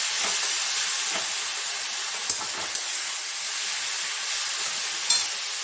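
Onions frying in a pan for peyaj posto and being stirred, a constant close sizzling hiss with a few faint scraping ticks from the stirring.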